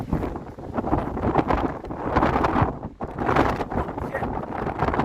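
Strong wind gusts batter the microphone on a mountain trail in the San Jacinto area, loud roaring surges that rise and fall in waves, with some speech mixed in.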